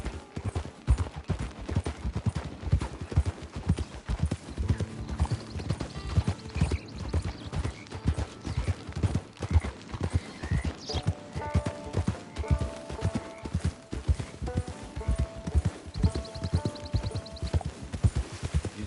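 Rhythmic horse hooves clip-clop steadily throughout a video game ride in Fortnite, close and fairly loud, with brief tonal game sounds over the top and no speech.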